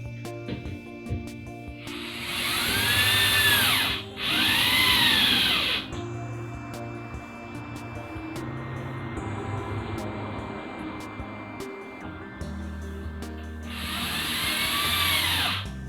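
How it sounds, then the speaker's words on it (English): A power drill drives screws into place beside a board while building a tiny house, three loud whirring bursts of about two seconds each, two close together near the start and one near the end, over a steady low background hum. "I'm going to put some screws next to the board to hold it in place."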